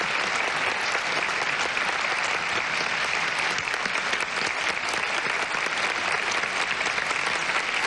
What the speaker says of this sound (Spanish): Miren, ovación.